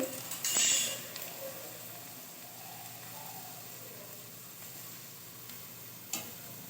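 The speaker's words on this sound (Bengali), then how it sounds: "অল্প অল্প এইভাবেই আমি চালগুলো পুরো ভেজে নেব চার ছাঁকনির সাহায্যে" Gobindobhog rice fries in a pan with a soft, faint sizzle and light stirring, a sharper clatter at the start and a brief tick near the end.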